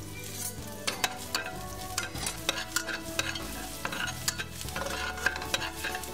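Chopped scallions hit hot oil in a wok, sizzling steadily while a spatula scrapes and clacks against the pan in quick, irregular strokes, close and alone without voices.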